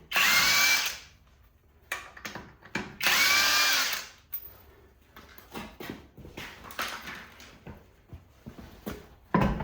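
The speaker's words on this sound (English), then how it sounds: "And we remove any of the lugs that you put on." A power tool, likely an impact wrench, removing lug nuts from a stuck, seized car wheel: two loud bursts of whirring followed by irregular clanks and rattles of nuts and metal, close by.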